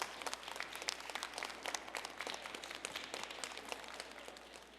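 Audience applause for a professor at the close of a talk on the climate crisis, a steady mass of clapping hands sustained throughout with no voices.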